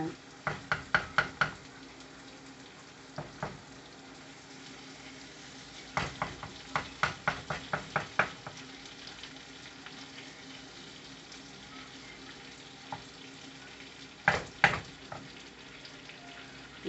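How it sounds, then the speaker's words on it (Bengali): Onions fry quietly in a pan over a low, steady sizzle, with clusters of sharp clinks and knocks from stirring against the cookware at intervals. "পেঁয়াজগুলো দিয়ে দিলাম"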